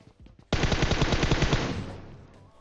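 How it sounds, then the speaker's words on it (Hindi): A burst of rapid automatic gunfire in PUBG Mobile, a loud close run of about a dozen shots that ends abruptly and then fades into a short echoing tail. "यहां पे मैं वही अपनी सस्ती पुरानी गने चला रहा हूं"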